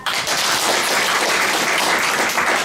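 An audience at a town meeting claps in a steady, loud, unbroken wash that fills the whole stretch, with no voices heard over it.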